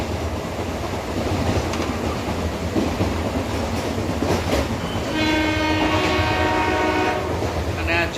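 A meter gauge passenger train running from Junagadh toward Sasan Gir rattles and rumbles continuously, then its horn gives a long steady blast in the second half over the running noise.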